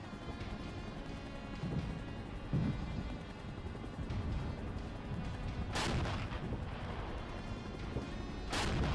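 Distant artillery booms and cannon fire roll through a steady battlefield rumble in the Cold War wargame Regiments, with two sharp, loud blasts standing out near the middle and end.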